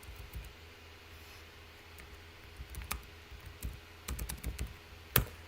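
Scattered keystrokes on a computer keyboard tap out in short irregular bursts, fairly faint, with a louder final click near the end over a quiet background hum.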